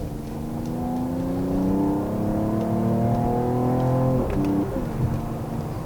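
A 2021 Mercedes-AMG GT 43 engine hums steadily with rising and falling revs as it downshifts into second, then third, and accelerates around a roundabout, close and continuous with no talking.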